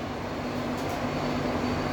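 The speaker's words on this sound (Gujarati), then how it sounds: "ખૂબ જ સરસ આ ટ્રેન છે મેમુ" MEMU local train runs between Ahmedabad and Vadodara, a steady broad rumble with a low hum inside the carriage, constant and unbroken for the whole stretch, with no talk.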